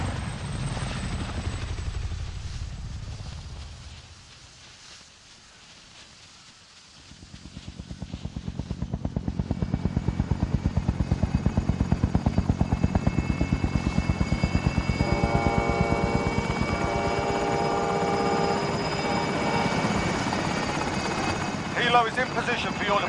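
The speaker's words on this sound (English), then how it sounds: "Helo is inbound for deposit." A video game helicopter sweeps in with a steady rotor thrum that fades briefly, then returns loud and sustained with a whining engine tone under radio-style game dialogue.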